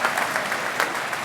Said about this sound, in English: Now let me hear you clap, a little round of applause.